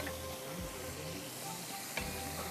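Garlic going into melted butter in a pan, giving a steady soft hiss and sizzle with faint stirring, fairly quiet and continuous with no talk.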